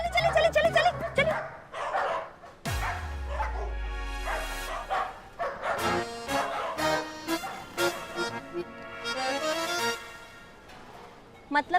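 A dog barks and yelps in excited bursts, with whimpering cries between them, up close and mixed with raised voices throughout.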